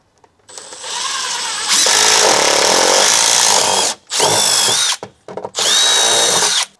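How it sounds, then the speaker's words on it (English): A power drill fitted with a 3/4 inch step bit bores a hole in a Polaris Ranger roof near the latch. Loud close whirring comes in bursts that rise in pitch, with short pauses between them. "you need a 3/4 inch step bit or just a 3/4 bit drill bit, any size, impact"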